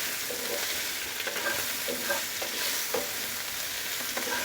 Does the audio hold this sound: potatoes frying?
yes